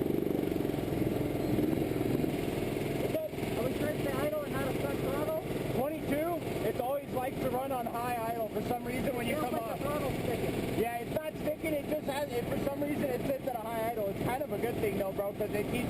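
A racing kart engine held at high RPM by a stuck throttle during an SWS kart race, droning steadily and loudly from start to finish beneath a voice that talks almost the whole time.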